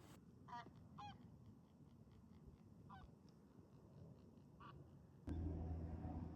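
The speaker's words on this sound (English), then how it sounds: "Look at all these birds. There's thousands of them." A large flock of geese honks repeatedly over a flooded marsh, the calls rising in scattered bursts from a steady low background murmur, before a sudden louder rumble swells in near the end.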